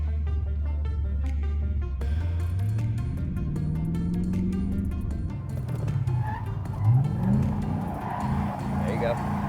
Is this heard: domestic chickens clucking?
no